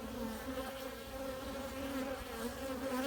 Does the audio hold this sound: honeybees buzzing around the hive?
yes